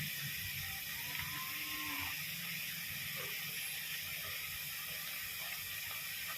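Onion paste sautéing in a pan for chicken gravy, a soft continuous hiss with faint occasional stirring clicks, quiet and steady.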